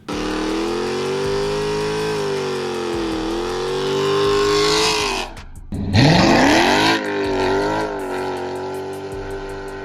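A Ford F-150 single cab launches at 1,800 RPM, tires spinning: a loud, steady engine drone breaks off briefly mid-clip, then revs sharply upward again close by.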